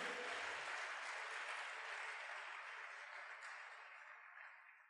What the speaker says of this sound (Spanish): Bríndemele un fuerte aplauso al Señor.